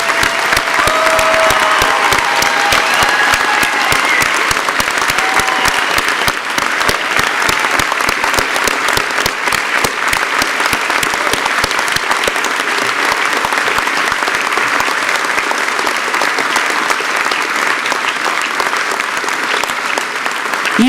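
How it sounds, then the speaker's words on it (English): A large audience at a university scholarly excellence ceremony gives loud, sustained applause for honored scholars. Dense clapping continues steadily from start to finish with no talking over it. "Let's have a big, big round of applause for our scholars."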